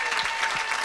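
A church congregation claps and acclaims during an evangelistic service, a short, dense burst of many hands at even loudness.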